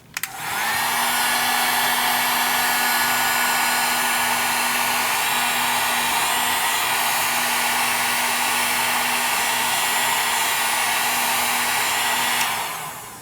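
A heat tool blowing hot air onto the sides, a loud steady whirring rush that switches on abruptly and runs unbroken for about twelve seconds before cutting off.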